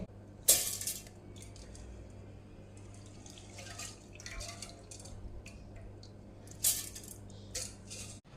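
Soaked rice, about a cup, tipped into a mixer grinder jar in a home kitchen, with wet grains pattering and dripping against the jar and a couple of sharp clinks near the start and again toward the end.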